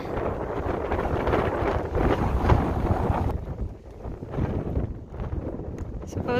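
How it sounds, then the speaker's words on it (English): Strong wind roars and buffets the microphone on a mountain trail in Colorado, a loud continuous rush that surges and eases, with faint rustling underneath. "All the wind."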